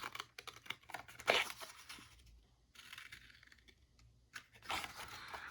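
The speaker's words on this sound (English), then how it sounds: "I'm just gonna cut all of them loose, since they're so close together on this particular decal sheet." Scissors or a blade cutting model car decals for an AMT 1968 Dodge Coronet RT loose from a decal sheet, close, quiet paper snips and crinkles in a few separate bursts with pauses between.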